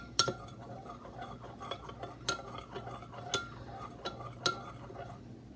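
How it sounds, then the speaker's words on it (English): Warm liquid for cinnamon roll dough stirred in a bowl, a quiet run of spoon clinks and taps about once a second against the container, close and sparse. "we're going to stir it just to cool it off slightly"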